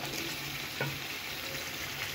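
Spice paste fries in oil for a jackfruit curry, with a constant soft sizzle and a brief clink of stirring partway through.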